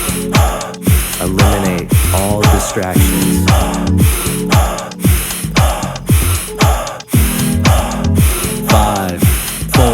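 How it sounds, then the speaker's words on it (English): Fast, forceful breath-of-fire breathing, rapid rhythmic exhales with the belly pulling in on each one, loud and close and continuing steadily throughout, with a voice speaking over it. "Fast, alkaline breathing."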